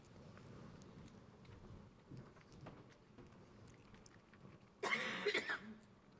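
One person lets out a short burst of coughing against a quiet, faintly rustling background.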